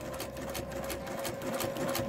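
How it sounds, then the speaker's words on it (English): A sewing machine stitches slowly while machine quilting a spiral on a scrappy improv quilt, a steady close mechanical whir and rapid needle chatter running continuously with no talking. "So I'm just going to do a couple stitches and then back."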